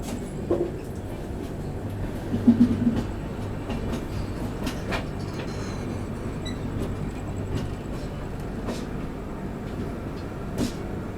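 The Sadbhawna Express rolls into Raxaul railway station, a steady low rumble of the moving train with faint clicks and clanks from the carriages, heard from inside at moderate level without talk.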